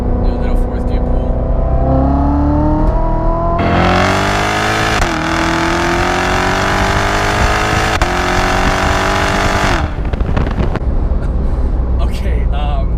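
A supercharged Corvette C7 Z06 engine pulling hard in fourth gear on a road drive, the revs climbing and then surging into a loud, sustained full-throttle roar before backing off, heard up close from the cabin.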